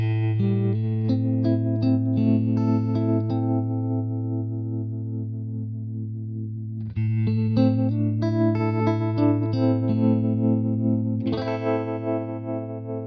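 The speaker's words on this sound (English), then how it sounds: "Here's a bias trim sound." Electric guitar chords played through a tremolo pedal on its bias trim setting, the volume pulsing in a throbbing, slightly distorted wobble as chords ring and are restruck.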